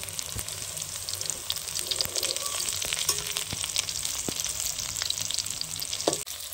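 Cabbage and egg dhokla pieces sizzle in a wok of oil while being turned, a close, continuous frying hiss broken by scraping stirs and a few sharp clinks of the utensil.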